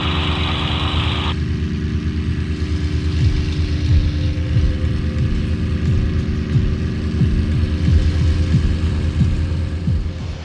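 Supermarine Spitfire taking off with its piston engine at full power, a loud steady low drone with a brief higher rush at the start, continuous and close with no talk.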